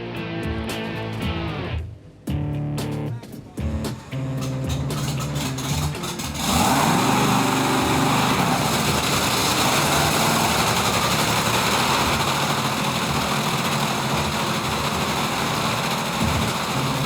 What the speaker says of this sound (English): The team decides to fire the engine once more to make sure the timing is right